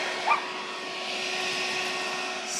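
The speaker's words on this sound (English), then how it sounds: "So we use vacuum with the zigzag seed separator." A vacuum runs steadily on a zigzag seed separator, a continuous close whooshing drone with a brief brighter rattle near the start.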